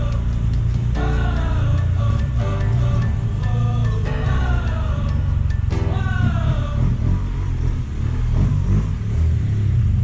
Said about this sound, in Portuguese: o segredo é manter o motor operando com força, acelerando o suficiente para não perder a potência